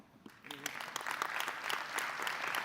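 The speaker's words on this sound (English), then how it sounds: "Now that is an applause line." Audience at an annual meeting plenary lunch breaking into applause, starting quietly and swelling into steady, fairly distant clapping from a crowd that lasts to the end.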